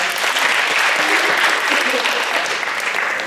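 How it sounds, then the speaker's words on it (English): Steady, dense applause from a high school post-prom show audience, loud and continuous throughout before easing slightly at the end. "Give him a round of applause, everybody."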